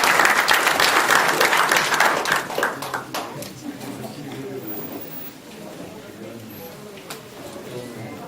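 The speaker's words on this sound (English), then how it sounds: "give an especially loud round of applause" A conference audience applauds, the clapping loud at first and then thinning into scattered claps that linger near the end.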